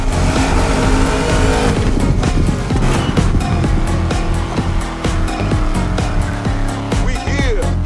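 Car engines rev and roar in The Crew Motorfest during a donk versus lowrider matchup, loud and continuous with bursts of acceleration and tire noise, mixed with game music and effects.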